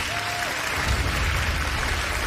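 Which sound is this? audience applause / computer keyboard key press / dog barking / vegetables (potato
audience applause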